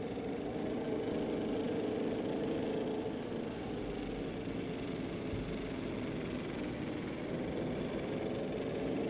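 A racing car engine in the video game Assetto Corsa, on the Brands Hatch Indy circuit, drones steadily at high revs for several seconds with a constant mechanical hum and no voices.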